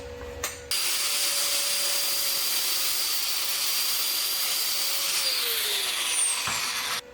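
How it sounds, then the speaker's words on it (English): An angle grinder grinds down a weld on the door of a 1950 Mercury rat truck, a loud, sustained, harsh whine that runs steadily for several seconds and then cuts off. "I'm going to grind it down and reprofile it."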